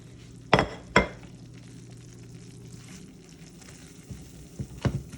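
Seasonings are stirred into bacon gravy in a frying pan: a soft steady sizzle runs throughout, broken by a few sharp scrapes and clinks of a utensil against the pan near the start and end.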